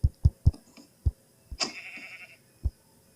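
Sheep bleat in a short wavering call midway, surrounded by several sharp low thumps and knocks, faint and close with quiet gaps between sounds.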